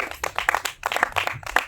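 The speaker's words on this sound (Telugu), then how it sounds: "చప్పట్లు కొడదాం దేవునికి." A church congregation clapping together in rhythmic bursts with short pauses between them; no talking is heard.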